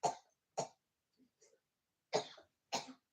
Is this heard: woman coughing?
yes